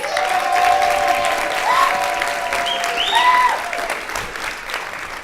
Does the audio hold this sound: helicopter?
no